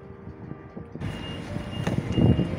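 A truck's reversing alarm beeps steadily in a regular pulsing rhythm over the rumble of its engine and traffic outdoors. The beeping is loud and clear, with no talking.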